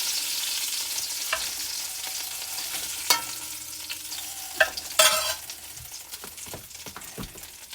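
Floured turkey drumsticks brown in a frying pan with a steady, close hiss of sizzling oil, broken by a few sharper crackles and pops, with no talking.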